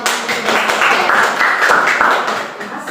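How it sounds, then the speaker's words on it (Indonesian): Classmates applauding in a classroom during a peer-teaching arithmetic sequence lesson, a dense, loud round of clapping that holds steady for a few seconds before easing off. "Oke, kita kasih tepuk tangan buat teman-teman."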